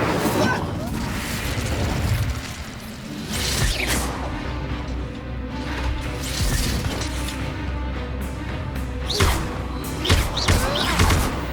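Confringo and Incendio spell blasts boom and crackle through a Hogwarts Legacy fight, repeated explosive bursts and impacts piling over battle din, with spoken lines interjected between them.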